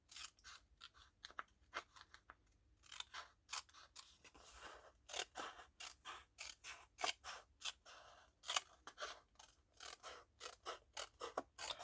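A paper trimmer (massicot) slicing through paper strips, a run of quick sharp crisp cutting clicks and crunches in uneven bursts, close and fairly quiet with no talking.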